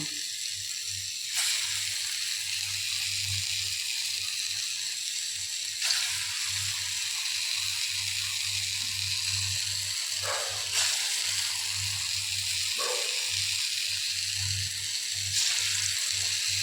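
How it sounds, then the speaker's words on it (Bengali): Lentil fritters frying in hot oil in a wok, a steady close sizzle that runs throughout with occasional louder crackling bursts. "এবার ডালগুলো আমি সুন্দর করে বড়া করে নেব"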